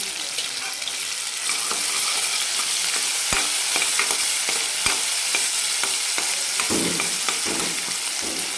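Vegetables with turmeric fry in a pan, a steady close sizzle broken by scattered clicks and scrapes of stirring.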